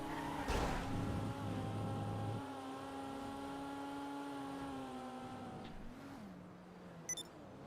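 A Dinka Jest, the game's Toyota Supra, in GTA 5 Online holds a steady, droning engine note at speed. The pitch dips near the end, and a short click follows. Nobody speaks.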